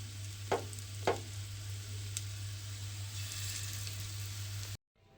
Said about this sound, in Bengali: আর এইভাবেই কিন্তু আমাকে সমস্ত পকোড়াগুলো ভেজে নিতে হবে।